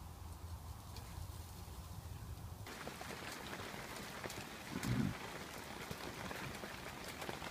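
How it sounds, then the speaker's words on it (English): Rain falling steadily on a wet village campsite, a dense even patter that stays at one level throughout, with a brief louder thud near the end and no talk. "it's fairly raining now"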